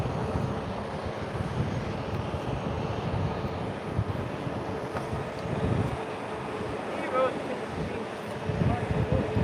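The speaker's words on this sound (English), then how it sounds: "it is super windy today" Strong wind buffets the microphone outdoors in steady, loud, rumbling gusts that swell and fade throughout.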